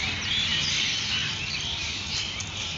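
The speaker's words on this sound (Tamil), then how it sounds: "எவ்வளவு பறவைகள் சத்தம்." Dense, constant high chirping from many birds singing over green fields at about 5:30 in the early morning, a continuous outdoor chorus with no talking.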